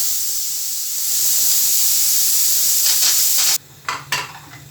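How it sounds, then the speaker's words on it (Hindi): A pressure cooker is opened after 40 minutes of cooking beef paya (trotters). Loud, steady steam hisses for about three and a half seconds and then cuts off abruptly, followed by a few short, fading puffs. "चालीस मिनट के बाद मैंने कुकर को खोल लिया।"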